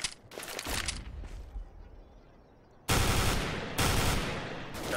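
A flashbang grenade in Counter-Strike: Global Offensive on the de_cache map goes off amid loud, sharp game gunfire bursts, with abrupt, harsh blasts that cut in and stop over a few seconds.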